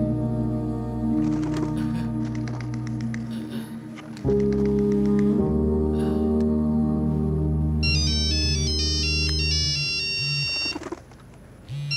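A melodic phone ringtone plays loudly and continuously, a looping electronic tune with bright chiming tones joining partway through.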